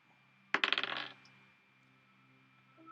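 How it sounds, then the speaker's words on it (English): Percentile dice rolled during a tabletop role-playing game, giving a quick burst of rattling, clicking clatter for about half a second that then fades, with no talk. "Make a percentile dice roll for me."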